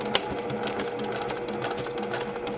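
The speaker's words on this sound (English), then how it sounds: "I'm going to back stitch to secure the threads" A sewing machine runs steadily while back stitching along the edge of a quilt block, with a continuous close mechanical whir and a sharp click near the start.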